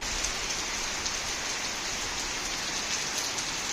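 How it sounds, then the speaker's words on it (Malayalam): Heavy rain pours down steadily, a dense hiss of drops drumming on surfaces, loud and unbroken, with no voices. "എന്റെ അമ്മയെ ഒടുക്കത്തെ മഴയായി, ഫുൾ ടൈം മഴ."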